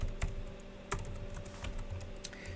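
Quick irregular keystrokes on a computer keyboard while coding, soft clicks and taps close by over a quiet hum, with a few louder key hits.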